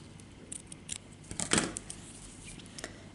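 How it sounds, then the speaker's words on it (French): Scissors snip through material while small decorative bows are being made, a few light clicks leading to one sharper, louder cut near the middle, close and quiet with no talking. "Donc là, je coupe."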